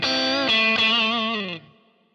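Strat electric guitar through the tweed combo amp model of a Boss IR-200 pedal: a short, bright ringing phrase of a few notes and a chord with slight grit, fading after about a second and a half.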